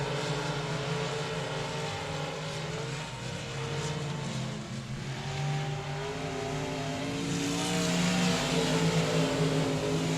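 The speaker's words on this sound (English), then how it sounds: "That's Brandon Ball, the Bubba Green Towing Sponsor Express race car with your race lead" Race cars roaring around the 67 Speedway oval in Texarkana during a stock car event, a steady loud engine drone that swells as the pack passes nearby, with no talk.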